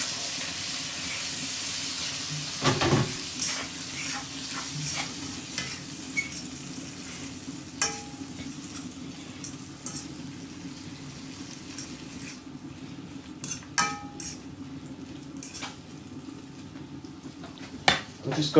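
Spring onion, sweet pepper, thyme and garlic fry in a pot with a steady hiss and sizzle, broken by clattering utensil taps and scraping stirs, one louder clank early on; no speech is heard.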